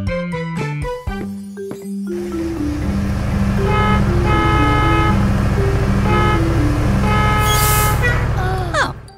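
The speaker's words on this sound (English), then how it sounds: "Oh, it's Barry the bus." A cartoon bus blares its horn in a series of repeated, loud toots over bouncy background music, with a short burst of other sound effects at the start.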